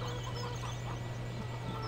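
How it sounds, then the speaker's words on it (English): Chickens clucking in the Farming Simulator 17 video game, soft scattered clucks over a steady low background hum, fairly quiet and continuous. "I hear chickens."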